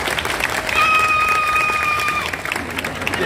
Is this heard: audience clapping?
yes